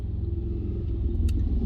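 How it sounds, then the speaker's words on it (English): Cars driving by on the I-75 freeway just south of Detroit make a continuous low rumble of traffic with a steady engine drone, plus a brief higher click or squeak near the end. "can you see cars driving by? That's the other side of the freeway."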